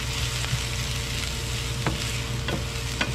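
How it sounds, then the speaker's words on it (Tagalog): Onion and garlic sautéing in a pan for a Filipino oyster and tomato dish, a steady loud sizzle with a few brief stirring scrapes, close and continuous. "Isain muna po natin hanggang sa lumambot na po ang ating sibuyas at bawang."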